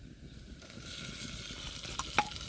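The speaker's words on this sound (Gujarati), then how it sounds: "તેલ ગરમ થઈ ગયું એટલે મિત્રો આપણે ટમેટા નાખી દઈએ" Onion and tomatoes sizzle in hot oil for a Gujarati Ratlami sev shaak, a soft steady crackle close by with a sharper pop of spatter toward the end.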